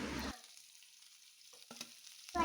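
Four long-sliced onions dropped into hot oil for a chicken gravy, a loud burst of frying at the start, then a quiet low sizzle with a few soft stirring scrapes before the crackle swells again at the end.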